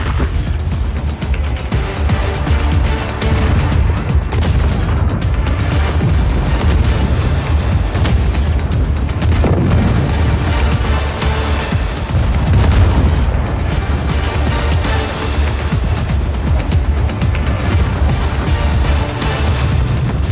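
Repeated booming cannon blasts and explosions in Just Cause 4, loud and close, layered over a continuous rumbling battle soundtrack.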